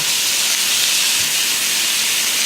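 A loud, steady hiss of papaya searing in sesame oil in a hot wok, filling the whole moment without pause or voices.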